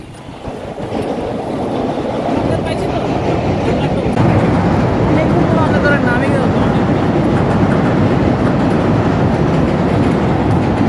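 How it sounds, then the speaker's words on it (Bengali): A train rumbles past loudly and steadily over a large bridge, a continuous heavy roar with faint rhythmic clatter of wheels for the whole stretch. "ট্রেন যাচ্ছে"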